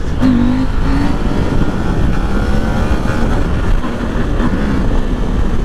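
KTM 890 Adventure motorcycle engine held at a loud, steady roar during a wheelie, close and continuous with a droning tone and no speech over it.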